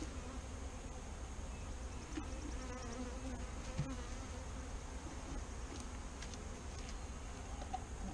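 Honeybees from an overwintered Saskatraz colony buzz in a steady, dense hum around an opened hive during a spring inspection, with occasional closer individual bees passing by.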